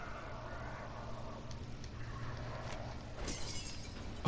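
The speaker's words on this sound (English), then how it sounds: "It's just making a noise. Some little glass effects." Glass shatters in the zombie video game Zombi as a short crash and tinkle of breaking effects over a steady low game rumble, with no talk.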